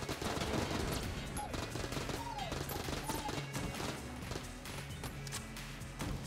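Rapid gunfire from a modded weapon in the twin-stick shooter Enter the Gungeon, a dense, continuous stream of shots layered with game music and effects, loud throughout with no pause.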